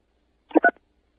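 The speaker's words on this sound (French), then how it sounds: "appuyez sur la touche 3." Pressing key 3 on a phone keypad gives a single short dialing beep, clean and fairly loud, with silence before and after it on the line.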